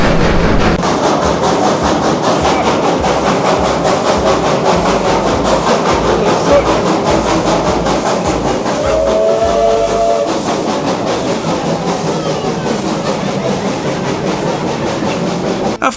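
A steam train on the Zig Zag Railway runs steadily, a loud continuous rumble with rhythmic chuffing and clatter, and a brief whistle-like tone partway through.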